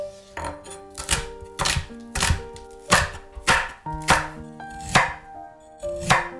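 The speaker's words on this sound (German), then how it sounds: "Lauchzwiebel in Scheiben schneiden." A knife slices spring onion on a cutting board in about nine crisp, evenly spaced chops, close and distinct over soft background music.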